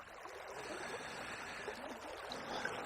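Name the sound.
river water flowing past, River Wye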